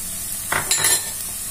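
Bell pepper purée and concentrated tomato sautéing in a pan, with a brief soft sizzle and a scrape of a utensil stirring, short and close against a quiet background hiss.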